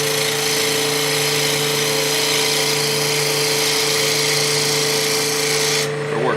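A bowl gouge in a short handle cutting wood on a spinning lathe while a cup's end grain is hollowed; a continuous, loud, even whirring scrape with a steady motor hum, unbroken for several seconds before easing off at the end.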